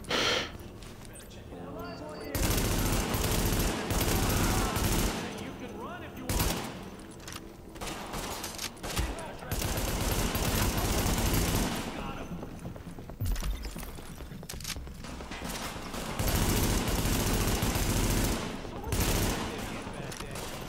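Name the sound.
guns firing in video game The Division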